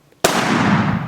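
A single sharp rifle shot during an elk hunt cracks close and loud, then rolls into a long, fading outdoor echo.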